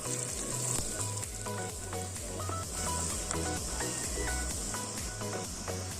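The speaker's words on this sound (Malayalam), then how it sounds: "ഉള്ളി ഒന്ന് വഴറ്റിയെടുക്കുകയാണ്." Onion sautés in coconut oil in a heated pan, giving a soft, steady sizzle punctuated by light scrapes and taps of stirring, fairly quiet and close.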